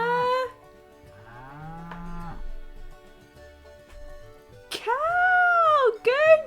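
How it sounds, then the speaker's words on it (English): A cow sound in a children's farm-animal spelling lesson: a voice speaks briefly, then two drawn-out, rising-and-falling moos come close and loud near the end. "The cow says moo."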